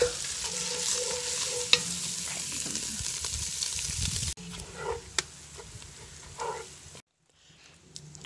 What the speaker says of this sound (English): they were popping out of this thing, and then they kind of just sizzled down